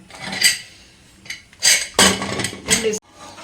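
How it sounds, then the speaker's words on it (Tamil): Metal lid set onto a pot of mutton biryani: a few scattered clinks and scrapes, then a burst of close, bright clattering hits as the lid settles, with brief pauses between knocks. "இப்போ மூடி போட்டுடலாங்க."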